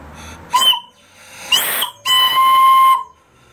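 A live steam boiler whistle blows in three bursts: a short toot, a brief second blast, then a longer sustained shrill tone, with hissing steam around each.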